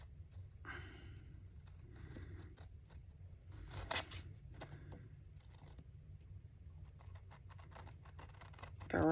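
Scissors cutting through paper for a journal project, close and quiet, with a few distinct snips and rustling scrapes spread over the clip, no talking.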